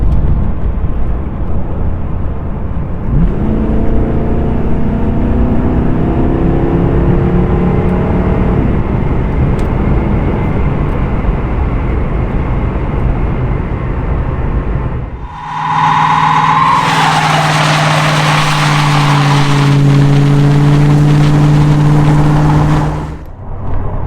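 A Foxbody Mustang with a 5.0 V8 swap drives on a test run, its engine droning steadily and then revving hard while the rear tires are spun and smoked in a loud, sustained burst near the end.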